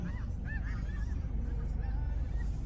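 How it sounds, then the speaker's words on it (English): A large flock of geese honks repeatedly at a distance, seen from a parked car by a field full of birds, with overlapping calls rising over a steady low rumble. "Sounds like geese."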